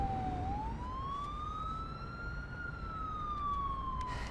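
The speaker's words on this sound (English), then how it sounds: "That's the sound of the police." A police car siren wails with a long, slow rise and fall, heard faintly and at a distance, continuing steadily without talking over it.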